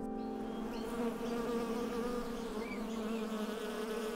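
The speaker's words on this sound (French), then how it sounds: "il y a des abeilles" Bees buzz continuously nearby in a French almond orchard with lavender, a layered droning hum that wavers slightly in pitch, with no other sounds around it.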